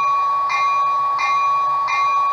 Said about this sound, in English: or function 1 is the bell.